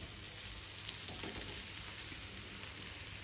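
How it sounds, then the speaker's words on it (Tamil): Masala-coated fish fries on a tawa for a beach-style fish fry, making a steady, close, even sizzle with no talk. "அடுத்த மீனையும் அதே மாதிரி மசாலா போட்டு தவால போட்டுடலாம்."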